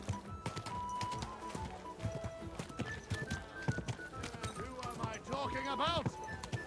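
Horse hooves clip-clopping in the video game Kingdom Come: Deliverance II, a quick close steady rhythm of hoofbeats with a whinny near the end, under a voice speaking.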